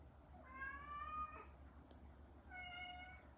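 A female cat in heat meows twice, each call a drawn-out, tonal cry with a pause between, fairly close over a low steady hum.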